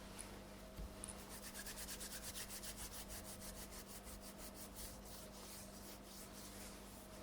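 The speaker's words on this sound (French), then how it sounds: "Je me frotte les mains d'impatience." Hands rubbing together in a quiet room, a soft, rhythmic series of dry swishing strokes repeating steadily for several seconds, close and faint, with no talking.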